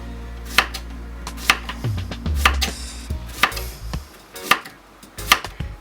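A knife slices courgettes on an angle into quarter-inch pieces on a cutting board, giving about eight crisp, evenly spaced chops close up with no talk.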